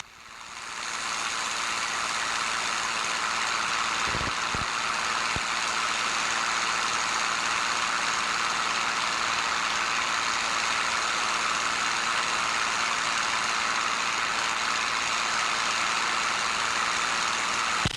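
Steady, loud drone of a P-51 Mustang "Crazy Horse" piston engine in flight after manifold pressure is raised to about 38 inches, a continuous broadband roar filling the cabin with no pauses.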